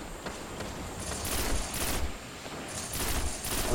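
Rapid bursts of automatic gunfire ring out during a Destiny strike mission on PlayStation 4, coming in several separate volleys at a moderate, slightly distant level.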